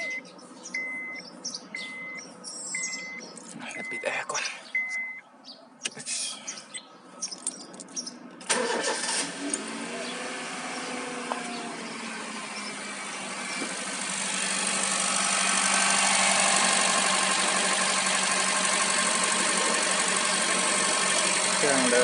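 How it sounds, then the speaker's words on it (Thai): A 2009–2013 Honda City engine cranks and catches after a few seconds of quiet clicks and handling noises, then settles into a steady, loud idle that grows slightly fuller toward the end, heard close up. "เดี๋ยวเราจะสตาร์ทรถสักแบบสิบวิ หรือสักนาทีหนึ่งก็ได้"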